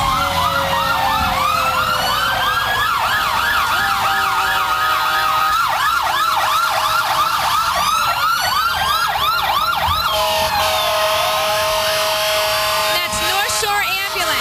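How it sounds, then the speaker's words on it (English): The North Shore Ambulance sounds its siren during the 1995 Beverly Santa Parade. A loud, close, continuous wailing and yelping cycle rises and falls over the rumble of the passing vehicle. "That's North Shore Ambulance."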